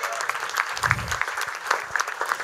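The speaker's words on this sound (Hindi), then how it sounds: "तालियां हो जाए यार" Enthusiastic applause from an audience after a stage play, steady dense clapping with a few louder claps, sustained throughout.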